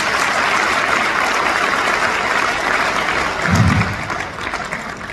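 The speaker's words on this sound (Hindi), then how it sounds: "इनके लिए जोरदार आप ताली बजा दीजिए" Applause at a recognition event, a loud, continuous roar of many hands clapping that carries on evenly, with a brief low thump partway through.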